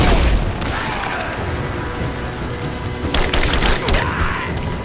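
Dense gunfire from a Rise of the Tomb Raider battle, with overlapping rifle bursts and booming impacts filling the mix, a loud crackling flurry that swells again toward the end.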